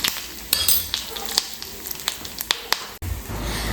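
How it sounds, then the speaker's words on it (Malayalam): A chili powder mixture goes into a pineapple curry in a pan: scattered crackles and sharp pops are followed by a sudden louder, continuous sizzle near the end, all heard up close. "ഇത്ര മുളക് പൊടിയും കൂടി ചേർത്ത് നമുക്ക് കറിയിലേക്ക് ഇത് ഒഴിച്ച് കൊടുക്കാം"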